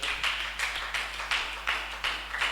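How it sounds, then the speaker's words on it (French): Church congregation clapping in steady rhythmic bursts, about two claps per second, fairly loud and close with a low hum underneath. "On acclame fortement l'Éternel."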